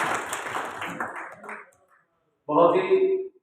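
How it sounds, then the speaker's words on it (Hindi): Audience applause at a Hindi poetry gathering held for the birth anniversary of Maharana Bhupal Singh of Mewar, a dense round of clapping that fades out over a couple of seconds before a voice begins speaking. "जोरदार तालियां।"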